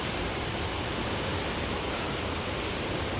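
Mangulila Falls pours with an unbroken, even roar of rushing water that stays steady at moderate loudness throughout.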